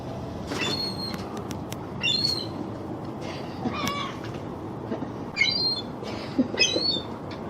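Geese and other birds squawking and calling at a feeding in short, irregular bursts over a constant background rumble, several calls overlapping at moderate distance.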